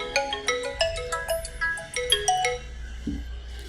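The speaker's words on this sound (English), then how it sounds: "it's ringing in the speaker." Phone call ringing through the small speaker of a DIY A9G and ESP32 IoT GPS tracker, a repeating electronic ringtone melody of bright tones for several seconds, heard alone without voices.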